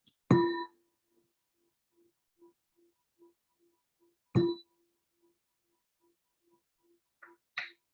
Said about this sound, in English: the bell will transition us from talking to practice